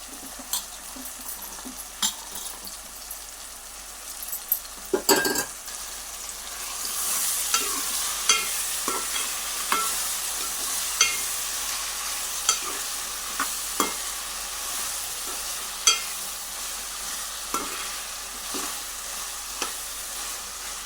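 Chopped broad beans stir-fried in a pan hiss in a steady sizzle, with a heavy clatter as they go in and repeated spatula scrapes and clinks against the pan.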